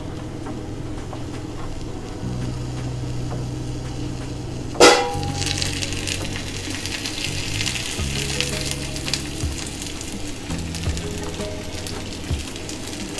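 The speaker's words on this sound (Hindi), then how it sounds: "ये 2 ऑनियन मसाला में डालना है क्या, उसको मैं फ्राई कर लूँगी। थोड़ा सा कोकोनट ऑयल डालूँगी इसमें।" Two onions frying in a little coconut oil for a Mangalore chicken curry (kori gassi) give a loud, continuous sizzle, sharpening after a sudden clatter partway through, with crackling that carries on to the end.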